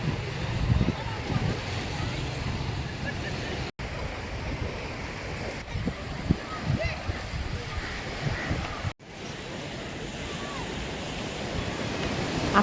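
Sea waves roll onto Cherai Beach on a Sunday evening in a steady, loud wash of surf, with wind buffeting the microphone and two brief dropouts breaking the roar.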